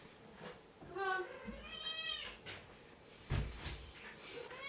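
A pet cat meows indoors, its calls rising and falling several times, heard under and between people talking nearby.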